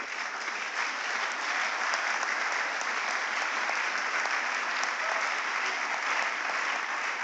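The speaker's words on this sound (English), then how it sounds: "I believe they deserve a round of applause" Steady applause from an audience at an annual mentorship and career development talk, filling the whole stretch evenly and fairly loud, with no voices standing out.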